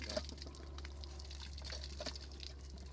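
Water running faintly from a tap or outlet, a soft steady trickle and splash with a low hum underneath.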